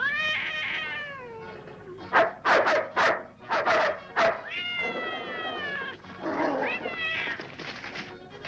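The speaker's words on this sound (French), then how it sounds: "Sœur Alicia, j'apporte à manger pour le chat" A cat meows repeatedly in drawn-out, wavering cries mixed with a dog's short barks and yelps, both close and loud, with no talking.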